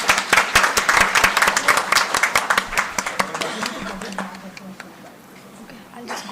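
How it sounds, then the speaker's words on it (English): Applause from an orientation day audience, dense clapping that stays loud for about four seconds and then thins into scattered claps as it dies away. "So let's give a big round of applause."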